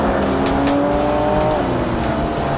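Race car engine in the Xbox video game Forza Motorsport, a loud continuous drone whose pitch holds steady and then dips slightly, with no talk over it.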